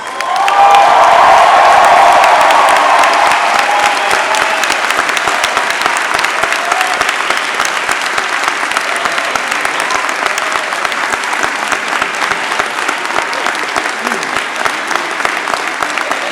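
Loud, sustained applause from a large audience at a WPI undergraduate commencement ceremony, starting with a brief burst of cheering and settling into a steady roar of clapping.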